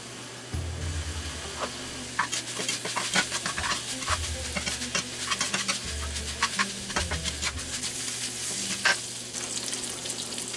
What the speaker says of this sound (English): Now I'm adding in all my chopped bacon.